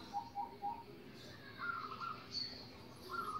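A zebra dove (perkutut) coos softly in a series of short, low calls, fairly faint over steady background hiss, with no talking.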